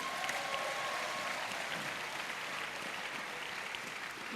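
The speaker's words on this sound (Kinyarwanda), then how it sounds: "muhe Yesu amashyi" Church worshippers at a choir album launch clap together in a steady, moderately loud round of applause that holds evenly for several seconds.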